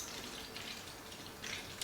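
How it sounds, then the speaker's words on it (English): Water is poured from a tap into a plastic spray bottle for mixing a neem oil plant spray, a soft continuous splash that swells briefly near the end. "So let's pour water here a little bit."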